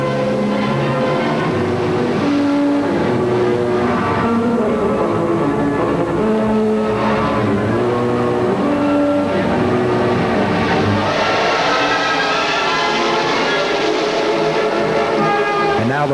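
Sprint cars race around the Eldora dirt track at the 1984 Kings Royal, a loud continuous engine drone with shifting tones as cars pass, heard steadily throughout.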